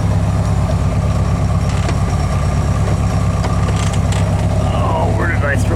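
A 1776 single-port engine idles at about 1,000 RPM, giving a steady low rumble that stays even and close throughout, with a faint whine rising near the end.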